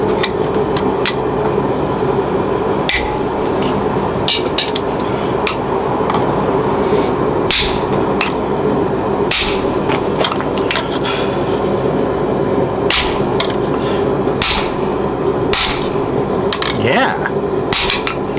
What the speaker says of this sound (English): That would be a spot for the flatter right here, perhaps.